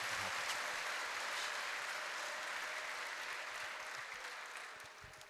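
A church congregation at a Fathers Union Day service applauds steadily for about five seconds, a dense wash of clapping that tapers slightly near the end with no talking.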